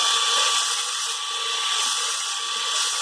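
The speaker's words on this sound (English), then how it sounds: "So let's start the machine, full speed. And this is a 60 grit belt. This is Maxamet steel." Burr King belt grinder running at full speed with a 60 grit belt on Maxamet steel, a loud, steady abrasive hiss and whine with slight surges as the metal presses on the belt.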